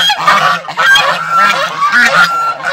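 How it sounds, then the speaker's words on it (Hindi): A flock of ducks kept at a house in a tribal village in Rajasthan calls together in loud, overlapping honking quacks, close by and continuous for a few seconds. "ये इस प्रकार से ये बतख है और बहुत सारे बतख पाले हुए हैं"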